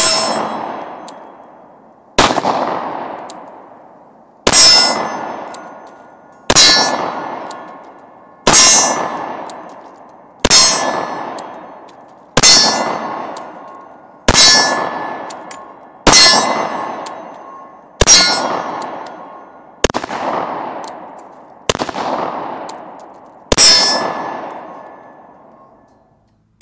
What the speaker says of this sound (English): We'll go shoot some rounds with the 40 barrel and give you a look at that